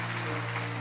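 A brief stretch of steady congregational clapping at a Korean church's dawn revival service, rising over held keyboard chords in a large hall.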